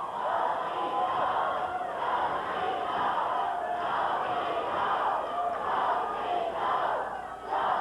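Steady rhythmic chanting from a packed wrestling arena crowd in Portland, loud and sustained, the repeated cadence pulsing through the whole stretch.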